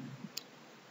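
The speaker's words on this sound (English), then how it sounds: "I click OK." A single quiet mouse click on an OK button in Maximo application software, a short sharp tick heard alone against faint room hiss.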